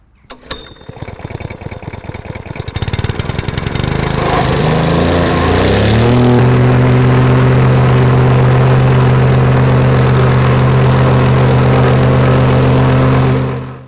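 Plate compactor (wacker) starting up and then vibrating steadily over a crushed stone and gravel path, a loud continuous engine drone with strong rhythmic vibration that builds up after the first few seconds and holds to the end.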